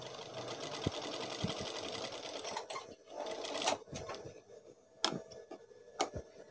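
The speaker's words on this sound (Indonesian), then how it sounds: "lalu jahit ke bagian atas kembali" A sewing machine stitches batik fabric for a gamis dress in short, rapid runs of ticking needle strokes, with pauses and sharp clicks between bursts as the fabric is shifted; no voices.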